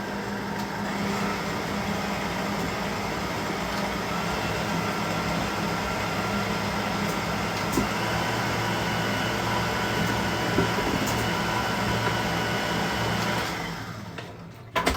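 An electric mixer beats vanilla cake batter with eggs added one at a time, giving a steady, close whirring drone for about thirteen seconds before it cuts off.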